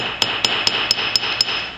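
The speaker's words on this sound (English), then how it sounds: "switch over and do a flat hammering, making sure I'm not letting that hammer head hit my surface" A hammer strikes metal flat-on in a steady rhythm, seven sharp, evenly spaced taps over a constant high background hum, close and distinct with no voices.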